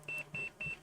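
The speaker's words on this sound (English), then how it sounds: "see now, my damn multimeter's beeping." A multimeter beeps three evenly spaced high-pitched beeps, each lasting about a sixth of a second, fairly loud against a quiet background.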